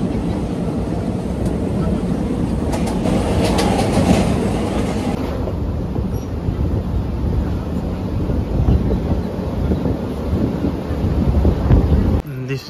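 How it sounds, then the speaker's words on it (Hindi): Trains rumble through Borivali railway station in Mumbai, a loud continuous roar of wheels and carriages with station bustle, and voices can be heard beneath the noise. "बोरोली स्टेशन"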